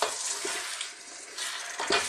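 Curried chicken fries on high heat in a pan while being stirred, giving a close, steady sizzle with occasional scraping stirs.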